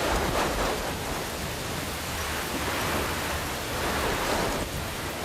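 A storm with heavy rain, wind and thunder gives a dense, constant roar of downpour and gusts with low rumbling underneath, loud and unbroken for the whole stretch, with no voices.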